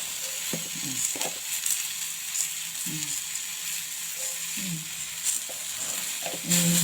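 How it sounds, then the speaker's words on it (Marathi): Ground masala paste for stuffed brinjal (bharli vangi) frying and being stirred in a pan, giving a steady close sizzle with occasional scraping stir strokes and no talking. "मसाला जरा भाजून घ्यायचा परतून."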